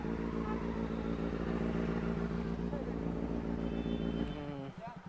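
A BMW S1000RR superbike engine idles loudly and steadily while the bike is being parked, then cuts off near the end, with people talking over it.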